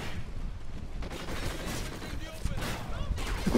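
Gunfire from a Call of Duty: Ghosts match in Infected and Team Deathmatch modes, steady crackling shots layered densely over game noise, with players talking over it throughout.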